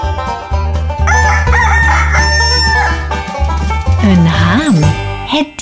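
A rooster's crow rises within loud, continuous music with a strong low beat, and its strained cry stands out near the end.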